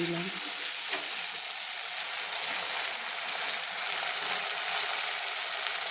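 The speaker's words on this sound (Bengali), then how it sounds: "তেলের মধ্যে কষিয়ে নিচ্ছি" Winter vegetables with a little turmeric fry in hot oil for khichuri and are stirred, making a steady, close sizzle broken by faint scrapes of the spoon against the pan.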